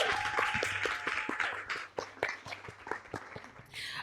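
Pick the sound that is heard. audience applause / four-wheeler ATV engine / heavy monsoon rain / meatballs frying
audience applause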